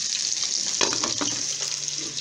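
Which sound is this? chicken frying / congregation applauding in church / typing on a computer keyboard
chicken frying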